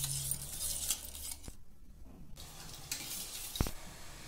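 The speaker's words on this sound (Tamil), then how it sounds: "இப்போ இதெல்லாத்தையும் மிக்ஸ் பண்ணிக்கலாம்." A spoon stirring and scraping around a bowl of sweet cow colostrum milk mixture, soft clinks against the side, fairly quiet and close, no talking.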